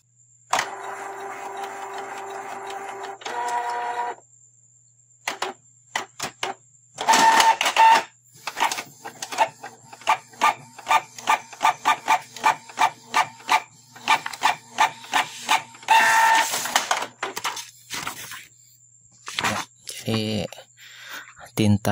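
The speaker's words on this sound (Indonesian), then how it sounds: "Coba kita tes print." A Canon iP2770 inkjet printer with black ink not coming out runs a test print, with whirring motor runs followed by a long series of rhythmic mechanical clicks and rasping feed strokes, close and loud.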